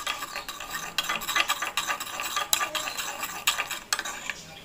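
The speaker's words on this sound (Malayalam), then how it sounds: "അത് സെയിം തന്നെ സ്പൂൺ വെച്ചിട്ട് നന്നായി ഇങ്ങനെ മിക്സ് ചെയ്ത് കൊടുക്കുക" A spoon stirs a thin, watery tamarind and lemon facial mix in a bowl. The scraping and clinking come close and fairly quiet, in a steady irregular churn, with no speech.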